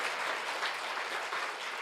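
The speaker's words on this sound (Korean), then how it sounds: "박수 한번 합시다." A church congregation claps during a Sunday morning worship service, a steady, dense wash of applause from many hands lasting the whole moment without a break.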